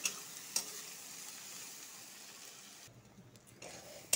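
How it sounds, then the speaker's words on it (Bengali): Spices sizzle steadily in oil as they are fried and stirred in a pan, with a couple of sharp clicks of a utensil against the pan over the continuous hiss. "এইভাবে মশলাগুলি ভালো করে ভেজে নিতে হবে।"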